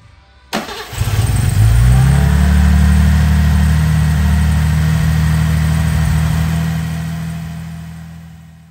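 A rebuilt car engine cranks and catches after about half a second, then settles into a loud, steady, rumbling idle close by that fades slightly toward the end.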